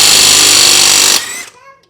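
A Seesii cordless right angle impact wrench in auto mode hammers loudly and continuously on a car's lug nuts for over a second, then stops abruptly and leaves a brief fading ring.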